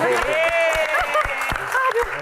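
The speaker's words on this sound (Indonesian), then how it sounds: "Oke, tepuk tangan." A studio audience claps briefly on a talk show while voices talk over the applause, a short burst of hand claps under loud speech.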